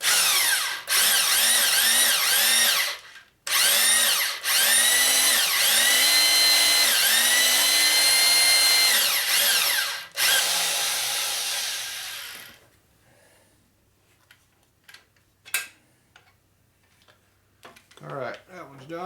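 A handheld drill motor spins a reamer through a 1967 Harley-Davidson 74ci shovelhead engine case, a loud, steady whining grind in long runs with brief pauses, then it stops, leaving faint clicks and handling noises.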